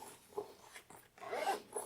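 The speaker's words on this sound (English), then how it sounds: "Zip that closed." A zipper runs closed in a few short, quiet rasping pulls across a small sewn yarn project bag, close to the ear with no talking.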